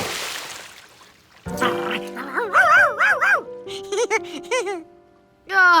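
Cartoon dog yipping and barking in a series of short, pitch-bending yelps and whines, loud and close, with a short burst of noise before the first bark.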